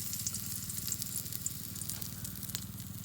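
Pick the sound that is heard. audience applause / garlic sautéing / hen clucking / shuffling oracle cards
garlic sautéing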